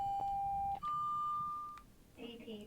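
In Train Sim World 4, a Class 700 Southeastern train's right-side door release sounds as a steady electronic beep that rises in pitch and holds, over a low cab rumble, followed by brief chiming tones.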